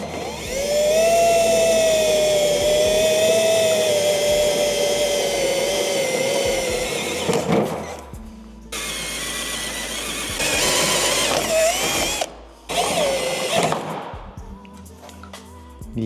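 A power drill bores through the steel body panel of a Nissan 350Z drift car, whining loud and steady for several seconds before stopping and restarting in shorter bursts.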